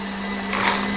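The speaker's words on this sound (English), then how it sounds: "So while that's whisking" An electric mixer whisks cake cream with a constant steady motor whir and hum, close and fairly loud, lasting about a second without any speech.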